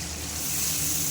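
Paste of ground ginger, cumin, coriander and chili hitting fried tomatoes in a pan for a Bengali vegetarian jackfruit dish, giving a steady, bright hiss of sizzling oil close by with no talk.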